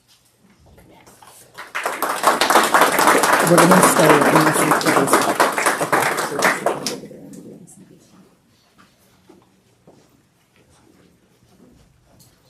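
Board meeting audience breaking into applause, a dense burst of clapping that swells for about five seconds and then fades, with a voice speaking before it and quiet afterward.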